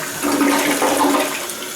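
A newly installed 1.28-gallon toilet flushes in one continuous rushing swirl of water, close and loud, with no voices.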